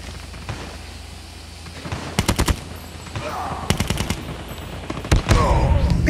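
Several short bursts of automatic gunfire in a video game shooting match come in loud clusters of rapid shots at spaced intervals over a low background rumble.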